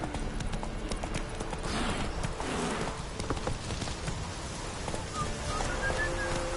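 Roach's hooves in a video game beat out a steady, brisk clip-clop that stays close and continuous over a constant background rush, with faint birdsong near the end.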